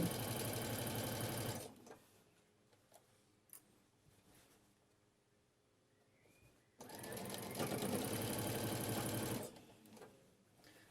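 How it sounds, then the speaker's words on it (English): A sewing machine stitches a seam on medical scrubs in two steady, fast-running bursts of about two and a half seconds each. Quiet handling of the fabric and small clicks fill the pause between them. "I'm not sewing the pocket down, I'm literally just sewing the seam."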